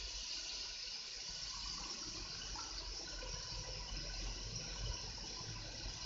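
A cup of water is poured into a cooking pot of chicken in ghee, giving a steady, fairly quiet gushing splash throughout with no voices.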